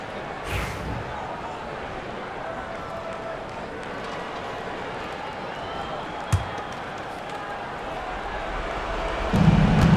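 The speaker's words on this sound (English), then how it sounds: "let's hear another round of applause for your Spurs Hype Squad dance team" Arena crowd at an NBA game between the San Antonio Spurs and Toronto Raptors applauds and cheers the Spurs dance team, a steady, dense wash of clapping and crowd noise that swells slightly near the end.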